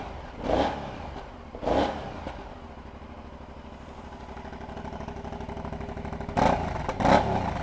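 An Aprilia Shiver 900 motorcycle engine starts and settles into a lumpy, nearby idle, with several sharp revs early on and two more near the end.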